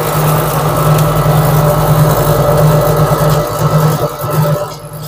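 An electric grinding machine milling roasted chickpeas into flour drones with a loud, steady motor hum and grinding rumble, holding constant before dipping slightly near the end, with no voices.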